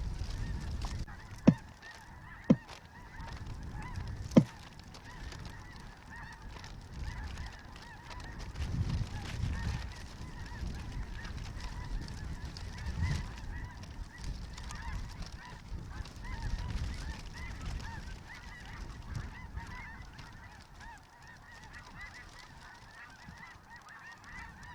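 Snow geese honking during a hunt in Canada, a continuous chorus of overlapping honks from a large flock, moderately distant and steady across the whole stretch, with a few sharp clicks near the start and no talking.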